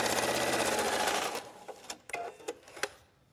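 Sewing machine stitching a seam on a trench coat, running in a steady loud whir for over a second before stopping, followed by a few faint clicks and taps.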